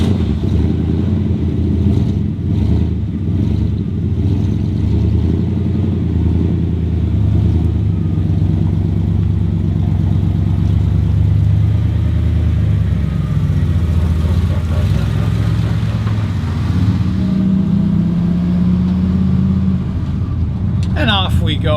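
A fueled-up pickup truck is driving toward a plant nursery, its engine giving a steady, loud, continuous low drone throughout with slight shifts in pitch, and no talk over it.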